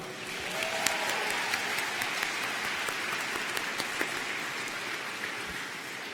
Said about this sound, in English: let's give our friends and family a huge round of applause